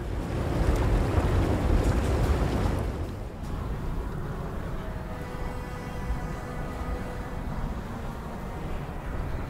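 A ship sails through open sea in the Path of Exile video game, carried on a magical headwind: a loud, steady wash of waves and wind, heavier for the first three seconds and then settling into a softer, continuous rush with faint tones.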